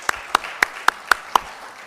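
Six distinct hand claps in an even, slow rhythm ring out in a hall during a parliamentary session, fairly close and alone rather than a full crowd applause.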